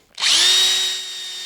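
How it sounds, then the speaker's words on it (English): A buffing mop spun by a power drill polishes a finished handmade piece, the motor whining up quickly to a steady high pitch and holding for over a second, close and loud with no talk. "So with a buffing mop on the drill, I'm going to start buffing it up."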